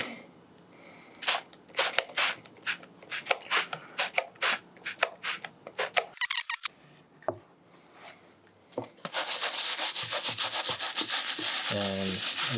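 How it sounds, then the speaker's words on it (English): An electric toothbrush scrubs a 1994 Air Jordan 1 'Chicago' sneaker. Rhythmic rubbing strokes come first, then a brief pause, then the brush's steady buzzing hiss, close up and moderately loud. "I have this electric toothbrush, and I'm just going to scrub it a little bit better"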